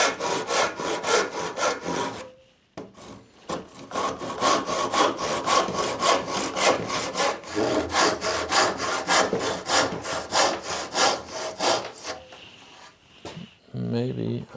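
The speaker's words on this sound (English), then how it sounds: "I think I'll cut it some more." Close, steady hand sawing through wood aboard an old sailboat under restoration, with rhythmic back-and-forth strokes running almost continuously apart from one short pause, then a few knocks at the end.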